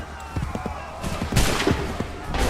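Musket volley from soldiers in Assassin's Creed III, a burst of overlapping cracks and a broad rumbling blast mid-clip, loud and close amid battle noise.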